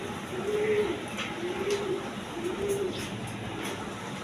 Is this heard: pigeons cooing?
yes